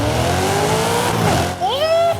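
A car in Forza Horizon 5 fitted with a swapped-in V8, built like an Australian V8 supercar, revving and accelerating hard from a standstill, the engine note climbing steeply and loud, with a rising whine near the end.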